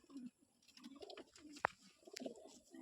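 A Giribaz pigeon coos softly in low, throaty bursts nearby, along with faint handling noises and a sharp click.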